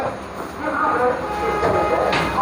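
Steady rumbling of a train carriage in motion between Tinsukia and Guwahati, a continuous rolling drone heard from inside, with muffled voices faintly underneath.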